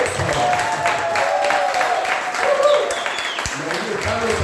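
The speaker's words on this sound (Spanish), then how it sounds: "Un aplauso." Church congregation applause, a moderate round of clapping mixed with cheers and excited voices calling out, fairly close and continuous for a few seconds.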